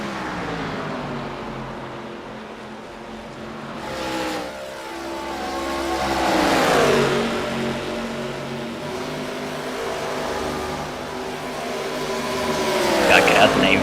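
ARCA stock cars race side by side at Texas, engines droning and swelling as the pack passes, with a race commentator talking over the engine noise throughout.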